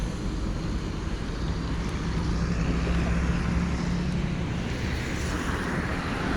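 Street traffic of cars and buses rolls past in a continuous roadway roar, a broad steady rumble with no single vehicle standing out.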